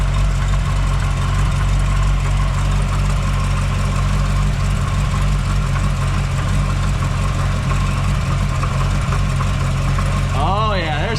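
A C6 Corvette ZR1's supercharged engine idles steadily with its hood open and engine cover still on, a close, loud, constant low drone with a faint irregular noise mixed in, and a brief rising whine near the end.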